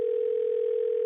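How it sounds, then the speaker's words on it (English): A steady, unbroken telephone call tone sounds as a single pure pitch, loud and close, lasting throughout with no talking. "It's ringing now."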